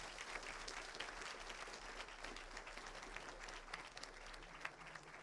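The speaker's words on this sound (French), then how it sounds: "On peut quand même les applaudir pour ce premier échange." Very faint applause from an audience at a film masterclass in France, a steady, distant patter of many hands that holds for several seconds with no voices on top.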